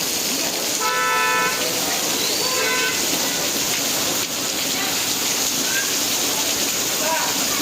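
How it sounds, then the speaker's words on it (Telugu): Heavy rain pours steadily over a street market selling Ganesh patri leaves for Vinayaka Chavithi, a dense constant hiss with a couple of short car horn toots early on. "మొత్తం ఫుల్ వర్షం పడుతుంది."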